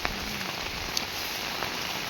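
Heavy rain pours steadily in Sagwadi village of Sihor taluka, with rushing, flowing water, a dense, even hiss that holds at the same level from start to finish.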